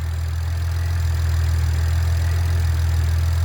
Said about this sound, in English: I figured I could do first start. Give it a tiny rev.